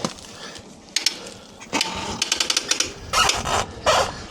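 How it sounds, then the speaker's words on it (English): The ratcheting arm of an X2 Max e-bike hitch rack clicks into place as a bike is secured, giving a short run of close, sharp, evenly spaced clicks among clunks and handling knocks. "And you can hear it ratchet."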